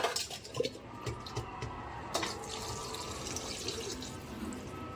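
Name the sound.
water poured into pot of rice for khichdi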